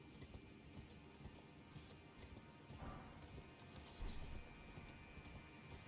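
Faint, rapid clip-clop of hooves as a horse gallops steadily in the video game Elden Ring, with a muffled thump partway through.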